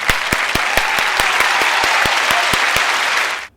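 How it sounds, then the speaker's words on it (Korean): Children applaud together at a Sunday school service, a dense, steady patter of claps with a few sharp individual claps standing out, lasting about three seconds before stopping abruptly. "드디어 박수로 시작할게요."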